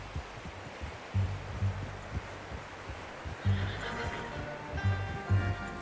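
A horse in the video game Red Dead Redemption 2 snorts and whinnies faintly amid clip-clopping hooves and rustling ambience, with a few soft low thumps recurring through the scene.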